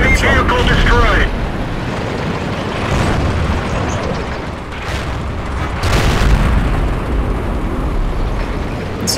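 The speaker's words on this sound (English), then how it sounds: "Enemy vehicle destroyed!" A vehicle blows up in a tank battle video game, a loud booming blast amid continuous rumbling combat noise, with further heavy bursts partway through, under spoken commentary.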